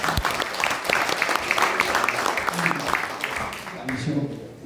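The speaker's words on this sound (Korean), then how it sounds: "선생님께 다시 한번 큰 박수 부탁드립니다" An audience at a Korean lecture on Soviet-era Korean independence sites claps steadily and loudly for several seconds, tapering off at the end.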